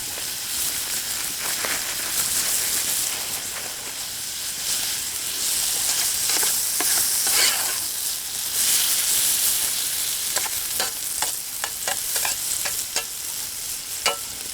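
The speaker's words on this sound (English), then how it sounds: "And we'll let that just fry up a little bit." Venison and chicken of the woods mushrooms fry in a pan over a creekside cooking fire, giving a continuous crackling sizzle with sharp pops and bursts of spattering throughout, close and fairly loud.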